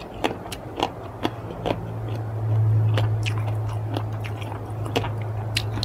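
Soy sauce pickled clams crunched while eating, giving close, crisp bites and chewing clicks spread out over a low steady hum, with no talking.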